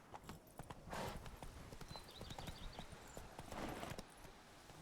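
Roach, a horse in The Witcher 3, gallops with quick, steady clip-clopping hoofbeats, close and fairly faint, with a brief whinny-like cry in the middle.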